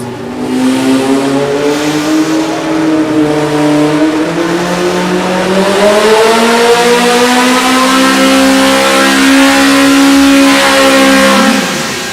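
An EMPI-built engine revs hard on a dyno at an engine competition's grand finals, a loud, close sustained roar climbing and holding high pitch for about twelve seconds before dropping off, with no talking.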